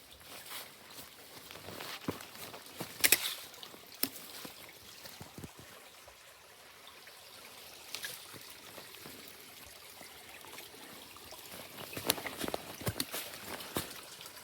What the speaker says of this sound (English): Cool little stream crossing here.